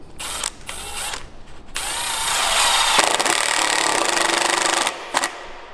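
A power driver sends a screw into a metal angle bracket while a timber chalet kit is assembled. A few short bursts come first, then a steady, close, rising motor whine that runs for several seconds and stops.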